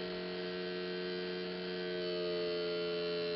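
Small DC motor driven by an LM2577T 5–12 V step-up booster, running weakly under load, gives a steady electric whine with a constant tonal hum, unbroken and fairly quiet.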